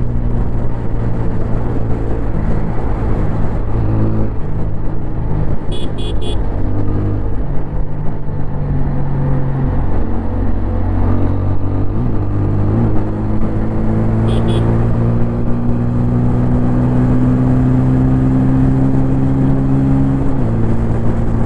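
A 2024 TVS Apache RTR 160 4V motorcycle engine drones loudly and continuously under wind rush, its pitch rising and dropping at each gear shift as it pulls through the gears on the road.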